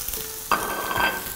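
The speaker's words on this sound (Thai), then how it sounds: "เราจะย่างเนื้อนะครับให้ผมจะย่างเอาแบบมีเดียมแรร์นะครับไฟแรงๆ" Beef steak hits a hot pan over high heat with a sudden loud sizzle that keeps crackling steadily over a background hiss.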